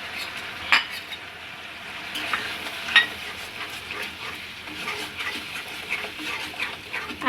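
Mustard paste stirred into frying spices for a fish curry, a low continuous sizzle with a few sharp louder clinks and scrapes of a utensil against the pan, close by with no talking.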